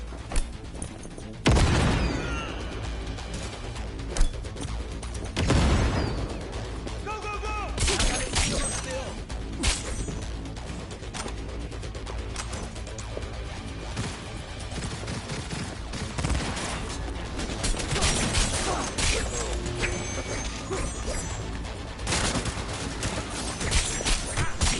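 Sporadic video game gunfire and explosive thuds punctuate a busy combat soundscape, with sharp loud bursts early on and lighter shots scattered later, while a voice talks intermittently over the action.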